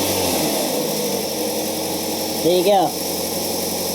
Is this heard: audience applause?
no